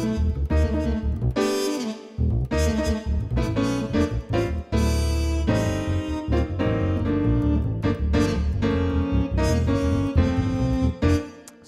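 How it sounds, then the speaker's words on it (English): Roland Jupiter-80 synthesizer playing a jazz tune with its SuperNATURAL piano, acoustic bass and muted trumpet tones together, a busy, full arrangement with punchy phrases and brief breaks, close and loud throughout. "that's using the supernatural piano, supernatural acoustic bass, and also that supernatural muted trumpet"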